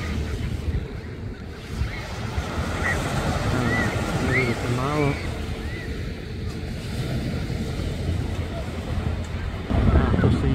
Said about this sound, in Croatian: valovito je